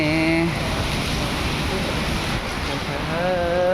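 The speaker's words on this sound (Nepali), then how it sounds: "पानी परिरहेछ रुम जानुपर्ने" Rain falls outdoors as a dense, loud, constant wash with wind rumble against the microphone, and a voice speaks over it at the start and end.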